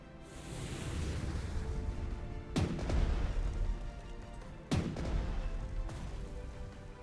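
Torpedoes launch in the WWII strategy game Strategic Mind: Fight for Freedom, Norwegian campaign: a dense rumbling barrage punctuated by two sharp, heavy blasts a couple of seconds apart, loud and close.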